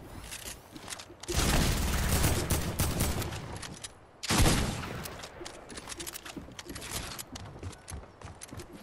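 Shotgun blasts in a video game, two loud, sustained bursts of heavy noise separated by a short gap, each trailing off into rapid crackling and clatter, close and dominant with no talking.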